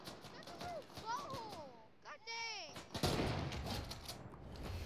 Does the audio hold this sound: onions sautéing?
no